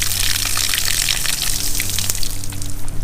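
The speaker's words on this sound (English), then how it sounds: "when we put the water pump on that it'll flush good" A water pump flushes water with a loud, continuous rushing gush, close by, over a steady low mechanical hum.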